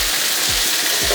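Paneer frying in a masala, giving a loud, dense, continuous sizzle close up with a faint rhythmic scraping underneath.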